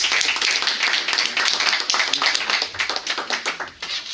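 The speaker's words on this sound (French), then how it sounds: "Daniel Auguste, que je vous demande d'applaudir." An audience at a lecture on higher education claps steadily for about four seconds, dense close handclaps with no voices over them.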